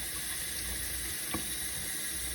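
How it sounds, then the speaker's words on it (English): Warm water runs steadily from a tap over the cap of a TWSBI ECO fountain pen during a rinse, a continuous broadband hiss of faucet flow, moderately loud and unbroken, with no voices. "And we'll just run this under some warm water."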